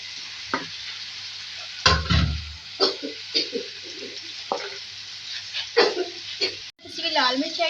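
Sweet pumpkin (kasi phal, half a kilo) is added to softened chopped tomatoes in a pan, with a loud clattering tumble and scraping, then intermittent stirring knocks and soft sizzling, broken by scattered voice-like sounds.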